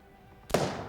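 Single sharp gunshot in the police-management video game This Is the Police 2, a sudden loud crack after near-silence that decays quickly into a short tail.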